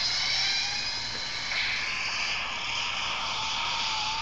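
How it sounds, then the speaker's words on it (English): A Back to the Future time-travel sound effect from a phone app, a thin, tinny whooshing roar with a rising whine that swells around the middle and continues steadily, played alone without speech. "You get full time travel sounds and car revving up."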